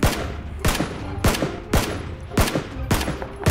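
Gunfire from the video game PLAYERUNKNOWN'S BATTLEGROUNDS, a steady series of about seven sharp, evenly spaced shots, loud and close, with no talk over them.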